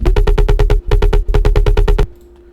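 Serum synth sub bass with soft clipping distortion, pulsing in rapid loud fluttering bursts in two phrases, then cutting to a faint lingering tone.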